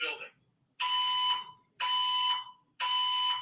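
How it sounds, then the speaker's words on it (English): A hotel building fire alarm sounds in steady repeating tonal blasts, each about a second long with short gaps, heard at moderate distance indoors without talk. "There has been a fire alarm reported in the building."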